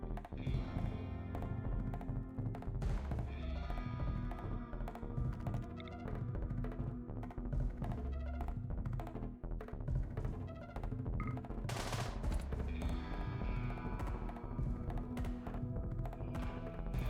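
Gunfire in the colony game RimWorld, with quick tapping shot sounds in short bursts set low under a constant music bed, fairly faint throughout.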